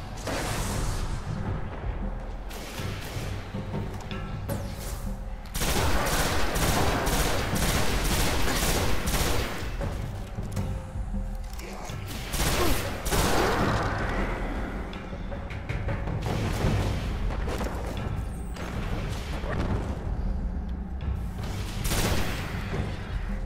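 Steady, loud combat in the video game Destiny: grenade explosions mixed with rapid gunfire and heavy booms, an unbroken barrage over a game soundtrack with no talking.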